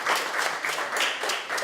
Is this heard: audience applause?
yes